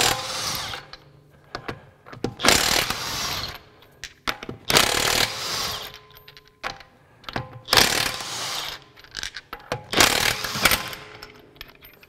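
A Craftsman V20 brushless 1/2-inch drive high-torque impact wrench hammers at wheel lug nuts in four loud, sustained bursts of rapid rattling impacts, each lasting about a second or more, separated by short pauses.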